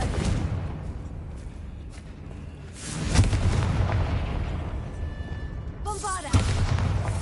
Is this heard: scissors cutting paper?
no